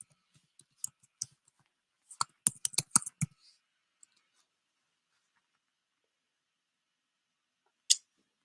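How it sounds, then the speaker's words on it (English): Typing on a computer keyboard comes as scattered soft clicks, then a quick cluster of sharper keystrokes, followed by silence and one last isolated tap. "Just going to type it in."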